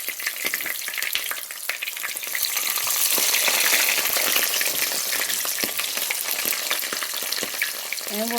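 A few plant-based Cajun chick'n pieces fry in grapeseed oil with a constant crackling sizzle dotted with sharp pops, swelling slightly midway and holding close and clear to the end.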